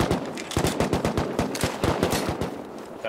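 In a battle-royale shooter game, gunfire crackles in rapid bursts of sharp shots, some close and loud and others more distant, for about three seconds with no talk.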